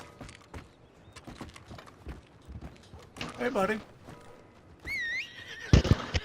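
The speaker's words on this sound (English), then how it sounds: "My horse followed us up here somehow." A horse in a video game clip-clops and whinnies loudly several times, over scattered game noise, with someone speaking briefly.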